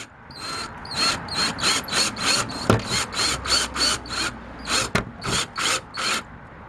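A hand ratchet tightens license plate screws with a quick series of crisp, evenly spaced clicking bursts, around fifteen in a row, close and fairly quiet with no talking.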